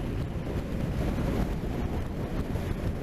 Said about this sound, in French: il y a le vent qui vient de côté gauche, là. Un vent de sud-sud-ouest.